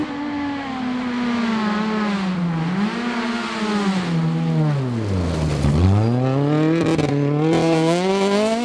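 A two-wheel-drive Honda Civic rally car screams past at speed during the Rallye Baie-des-Chaleurs, its high-revving engine note climbing and falling through gear changes, loud and close throughout with no voices.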